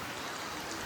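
Steady rain pours down during a heavy monsoon downpour, a dense even hiss with no voices.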